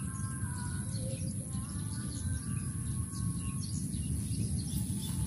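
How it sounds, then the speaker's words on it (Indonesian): Soft bird calls, including the cooing of a spotted dove, come through faintly in the distance beneath a steady, loud outdoor hiss and high insect-like whine on a roadside. "Ada tekukur guys tuh di bawah."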